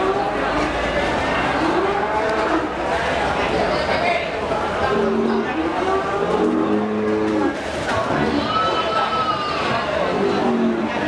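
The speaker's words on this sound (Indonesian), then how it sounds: "Nah, ini ada sapi" Cattle, including Simmental and Limousin beef animals, low and moo at the Kliwon cattle market in Kudus, Central Java. The calls rise through a dense, steady din of crowd chatter, nearby talk and engine noise.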